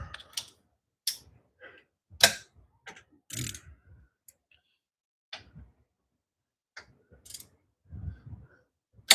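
Ratchet wrench with extensions working on bolts of a Mazda Miata throttle body, giving short sharp clicking bursts and metallic ticks spaced irregularly, close and fairly quiet with no talking.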